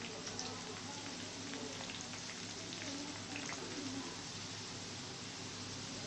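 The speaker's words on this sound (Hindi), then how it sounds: "1 मिनट तक गरम मसाले और प्याज को फ्राई करेंगे।" Onions and whole garam masala frying in a pan give a steady, soft sizzle throughout, with faint bird cooing in the background and no speech.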